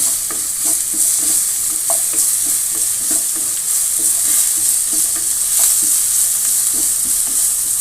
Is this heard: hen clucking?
no